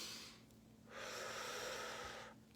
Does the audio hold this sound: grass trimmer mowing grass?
no